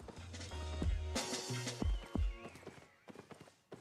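A horse mount walks in the fantasy game Albion Online, its steady clip-clop hoofbeats carrying on under low game sound and music, with a couple of brief neighing bursts midway.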